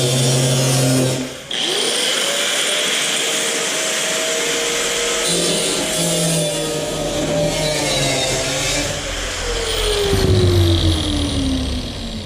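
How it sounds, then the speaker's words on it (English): A power tool cuts a section out of sheet metal from the bed side of a 1960–66 Chevy or GMC truck, giving a loud, continuous whine and screech whose pitch sags and rises as the blade works through the metal. "So I'll cut my metal section out first in the middle, and then we'll do our ends."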